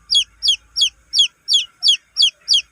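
Young chicks on a farm give eight evenly spaced, high, sharp peeps in a steady rhythm, close and clear against an otherwise quiet background.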